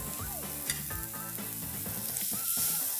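Meat sizzling on a grill as it cooks toward medium, a steady close crackle of fat and juices with a few brief scraping or handling sounds, no talk.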